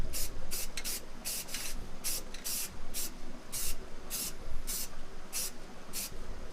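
Spray paint hissing onto a motorcycle helmet in a light dusting coat, fairly quiet bursts repeating in short regular pulses with brief pauses between them.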